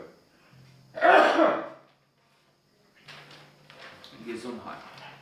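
One loud, abrupt sneeze bursts out close by, followed by a brief silence and then quieter talking.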